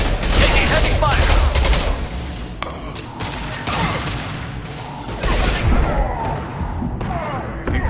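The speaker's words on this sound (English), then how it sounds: "Taking heavy fire." Heavy gunfire from the Mass Effect 2 video game on insanity difficulty, dense overlapping rapid shots and impacts, loud and close, easing briefly before bursting again.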